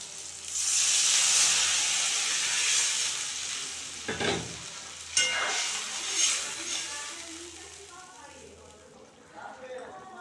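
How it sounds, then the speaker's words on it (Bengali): Eggplant frying in oil gives a loud sizzle when water is poured in, then a hissing, bubbling simmer with a few clinks and stirring sounds as the hiss fades, while a person talks over it. "এখন আমি জল দিয়ে দেব।"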